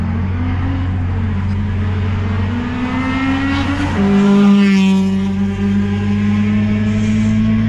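A 1994 Honda Civic EG6 SiR revving hard, its exhaust giving a loud, sustained high-RPM buzz that holds steady, shifts pitch once midway, then carries on close and continuous with no talking.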